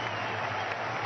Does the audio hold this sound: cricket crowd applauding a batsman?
yes